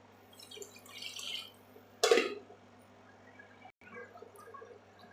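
Water poured into a pot with rice and tomatoes for white kuska, a brief close splash and gurgle in an otherwise quiet kitchen, with faint dripping after.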